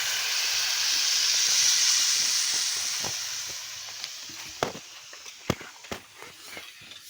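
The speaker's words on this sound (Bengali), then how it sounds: "এবার সেই ডালটাকে ফোড়ন দিয়ে দিলাম" Spice tempering poured into jackfruit seed dal gives a loud, hissing sizzle that slowly dies down, followed by scattered sharp clinks and taps of a utensil against the pot.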